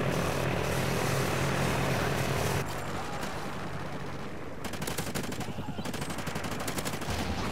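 In Call of Duty Ghosts multiplayer, a loud helicopter roars under sustained automatic gunfire, with the bursts stopping briefly and then resuming as rapid, close rattling fire.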